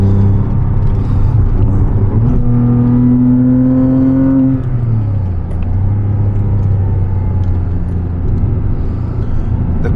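A 2006 Porsche Cayman S, a mid-engine car with a six-speed manual, accelerates with a rising engine drone, drops in pitch at a gear change, then climbs again under a steady road rumble.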